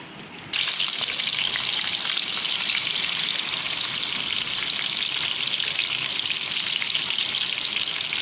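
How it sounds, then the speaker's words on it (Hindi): Fish dropped into hot oil sets off a sudden loud, steady sizzle that fills the pan and holds evenly, a dense crackling hiss after a short quieter start. "ये ऑयल जो अच्छी तरह गर्म हो गया। अब हम इसके अंदर फ़िश डाल देंगे अपना।"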